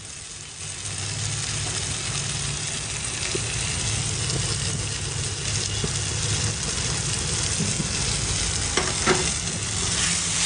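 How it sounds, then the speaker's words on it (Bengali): Button mushrooms fry with turmeric and cumin powder in a pan, giving a steady, dense sizzle that stays even throughout, fairly close, with no voices. "এটাকে লাল লাল করে ভাজবো।"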